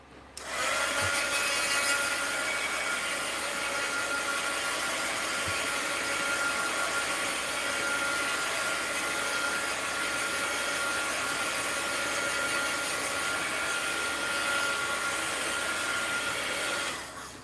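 A heat gun blows hot air in a steady, loud whooshing roar that starts abruptly and runs unbroken for most of the stretch before cutting off, with no talk over it.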